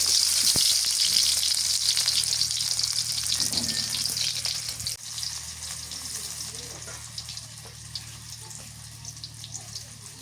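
Cauliflower and fish head frying in soybean oil, a steady close hiss and crackle of sizzling oil throughout, with a few faint clinks and a brief knock midway.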